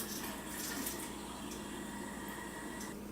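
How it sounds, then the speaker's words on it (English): Plain water pours steadily into a pot for pasta in a home kitchen, a continuous splashing rush that holds level for the whole stretch with no talk over it. "And I'm going to put 2 more additional cups of plain water"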